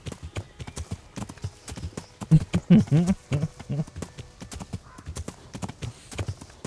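Horse hooves clip-clopping in a steady rhythm from the medieval video game Kingdom Come: Deliverance, a clear gallop with a brief whinny or snort in the middle.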